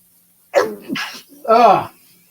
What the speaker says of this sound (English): I usually do 2, so there's probably another sneeze coming